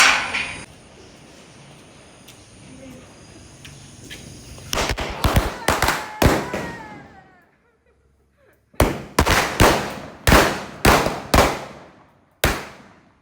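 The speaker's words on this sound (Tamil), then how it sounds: "ஃபஸ்ட்டு வெடி வந்து வைக்க போகிறேன்" A string of sharp Diwali firecracker bangs goes off in quick bursts, about a dozen loud cracks in two clusters separated by a brief lull.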